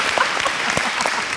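A studio audience bursts into applause after an actor delivers a punchy film dialogue on a Malayalam TV show, the clapping dense and steady with a few sharper claps popping out over a short stretch.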